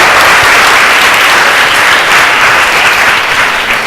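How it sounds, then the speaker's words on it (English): Loud, close, continuous applause from an audience clapping for Eliza and her partner, a dense unbroken wash of claps holding level for several seconds. "So if we could just have a round of applause for Eliza and her divine right partner."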